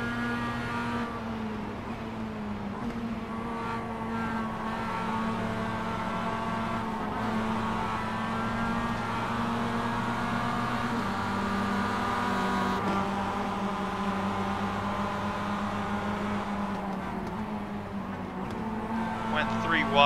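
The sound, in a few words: Mazda MX5 race cars racing at Bathurst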